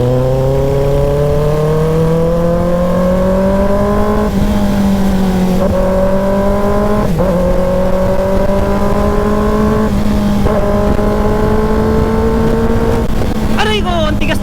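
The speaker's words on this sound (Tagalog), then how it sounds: "Tahimik lang yung exhaust niya, pero halimaw yung motor niya" Motorcycle engine with a quiet exhaust but a strong motor, heard while riding: a steady, loud drone that rises gradually in pitch with small dips at gear changes, under rushing wind noise.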